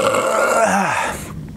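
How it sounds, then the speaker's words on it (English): A loud, drawn-out burp after drinking a holiday-flavored kombucha, close to the mic with a falling, croaky tone that trails off into quiet. "kombucha makes you burp"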